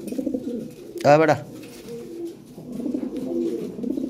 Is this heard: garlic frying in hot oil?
no